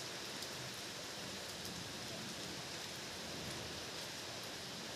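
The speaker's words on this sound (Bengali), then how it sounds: "আর আমাদের এখানে যা বৃষ্টি পড়ছে" Steady rain pours down continuously at night during a storm with strong wind, a dense even hiss of drops filling the whole scene without pause.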